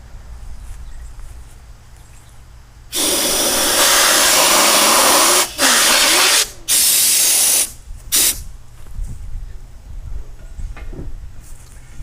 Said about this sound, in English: So let's go ahead and let the dust fly.